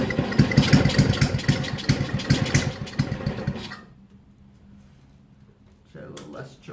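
A snowblower engine with a freshly rebuilt carburetor and a homemade wire governor arm runs loud and uneven for several seconds, then cuts out to near silence before sputtering back briefly at the end.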